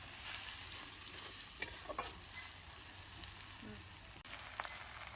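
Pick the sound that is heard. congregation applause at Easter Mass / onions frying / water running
onions frying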